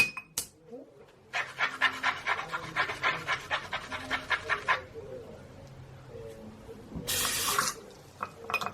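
Make-up brushes are washed at a sink. Fast, rhythmic wet swishing and rubbing is heard close up, followed by a short burst of running tap water.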